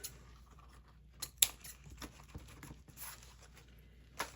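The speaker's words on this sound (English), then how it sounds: "I'm gonna cut myself a nice piece." Scissors snipping red striped Christmas ribbon for a craft bow, a few quiet, sharp cuts spaced apart over faint room noise.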